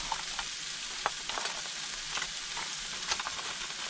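Broccoli and other vegetables sauteing in a skillet, a steady close sizzle and crackle with scattered pops and clicks of stirring throughout.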